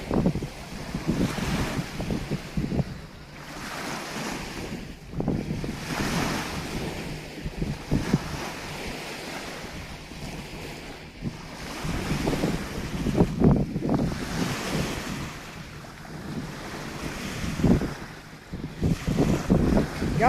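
Ocean waves roll onto the shore in steady surges, each swell building and breaking in broad washes of surf with gusts of wind buffeting the microphone, continuous and fairly close with no voices.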